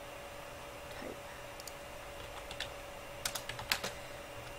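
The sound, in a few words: typing a slash command on a computer keyboard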